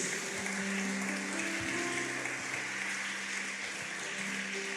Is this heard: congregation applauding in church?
yes